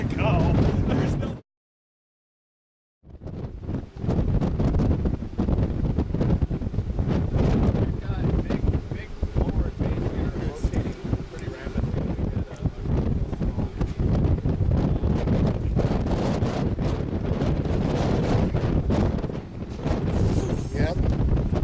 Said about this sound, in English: It's either gust or tornado.